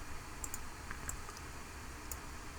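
A name being typed on a computer keyboard, a few soft, sparse key clicks over a quiet background hiss.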